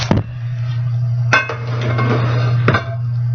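Boiled spinach is placed onto a plate, with three distinct clinks of utensils against the dish spaced about a second apart over a low steady hum.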